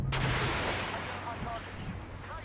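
Burst of cannon fire from a BMPT Terminator armored vehicle in a tank combat game, a loud broadband blast at the start followed by decaying rumble and reverberation, with faint engine drone underneath.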